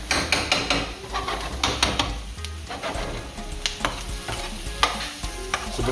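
Curry paste fries in a pot while being stirred, a spoon scraping and knocking against the metal in irregular strokes over a low, steady sizzle; no talking.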